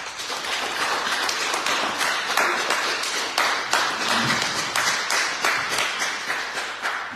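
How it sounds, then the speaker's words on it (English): A town hall meeting audience gives a sustained round of applause for a presidential candidate, dense overlapping claps at a steady, moderately loud level throughout. "I will give a big round of applause for Madam Femi-Claudius School."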